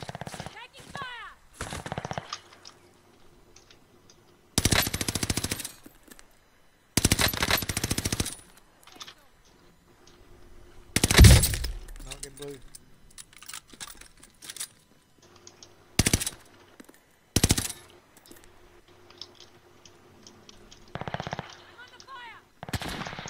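Video game gunfire in separate bursts, short rapid volleys and single shots with gaps between, one heavy blast near the middle, mixed with the clatter of computer keyboard typing.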